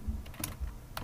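Keys clack on a big chunky computer keyboard during a game of Bit Planes, a few quick close taps in an uneven rhythm over a low background hum.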